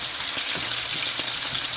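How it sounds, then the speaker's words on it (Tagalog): Potatoes and mushrooms sautéing in a pan for a steak dinner, a steady loud broadband sizzle and crackle with no voices over it. "I-saute na lang natin yung patatas."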